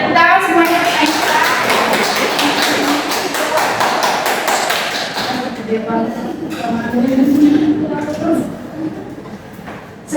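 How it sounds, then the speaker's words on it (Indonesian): Schoolchildren in a classroom lesson clap together in a fast, loud burst, with voices calling and talking over and after the clapping. "tepuk tangan semuanya"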